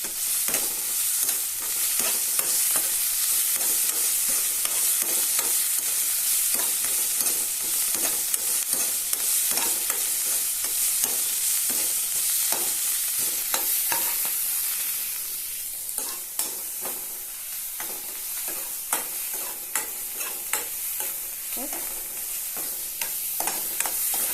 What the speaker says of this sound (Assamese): গাজ টেঙাটো অলপমান ভালকৈ ভাজিব লাগে